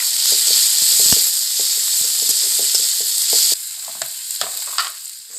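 Fish curry frying in a pan with added tomato sizzles steadily up close while a utensil stirs it with repeated scraping clicks, the sizzle easing partway through.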